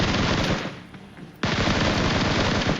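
Rapid automatic gunfire in a shooter video game, two loud close bursts of dense repeated shots separated by a short gap.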